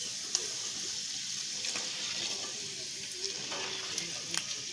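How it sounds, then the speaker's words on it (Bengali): Sago pearls fry in hot oil, giving a soft, continuous sizzling hiss with scattered small pops and crackles, fairly quiet and close, with no talk. "তেলটা গরম হয়ে গেছে, এবার সাবুটা অল্প অল্প করে ছেড়ে দিলাম"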